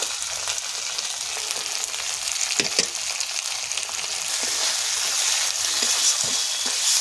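Spices sizzling with fried bhetki fish bones in a pan, a steady bright crackling hiss up close, rising slightly louder toward the end, with a few soft stirring knocks and no talk.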